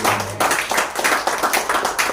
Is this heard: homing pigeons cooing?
no